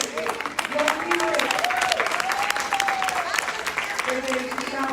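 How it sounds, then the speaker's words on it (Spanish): A church congregation applauds, a steady wash of many clapping hands with a voice calling out over it throughout. "vamos a dar una aplauso"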